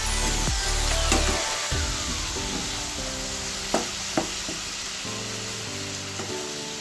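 Spice masala for an egg, pointed gourd and potato curry sizzles loudly in the pan after hot water is poured in, a steady hiss with a few sharp stirring knocks.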